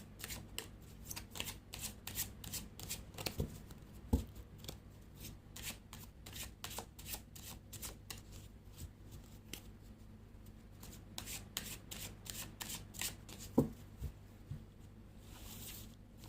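Three Kingdoms fortune-telling cards are shuffled by hand, a quiet, continuous papery riffling with a couple of sharper taps, heard alone up close.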